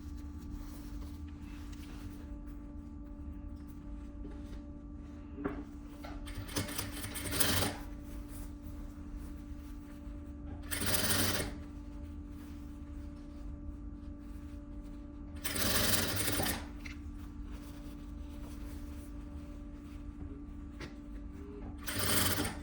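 A sewing machine stitches the armhole seam of a vest in several short separate runs of rapid chatter, with quiet handling and a steady background hum between them, nearby.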